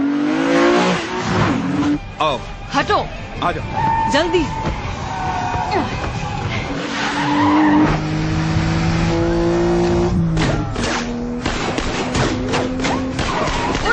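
A car accelerates and revs amid an action scene, engine surges and tire sounds mixed with music and shouting voices, loud and busy throughout.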